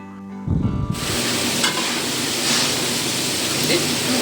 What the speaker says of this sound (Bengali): তারপরে আলুগুলো দিয়ে ভেজে নিয়ে তার মধ্যে শিম আর কুমড়ো দিয়ে ভালো করে আর একবার ভেজে নিচ্ছে